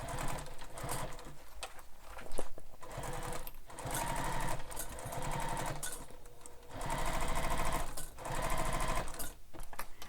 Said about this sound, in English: I'm just basting this in place so my stitches don't have to be super pretty.